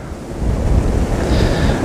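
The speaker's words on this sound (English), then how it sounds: "35-mile-an-hour wind gusts out here." Strong wind gusts of about 35 miles an hour roar across open water behind Eagle Island on a snowy winter day, a steady loud rushing with microphone buffeting and waves lapping beneath.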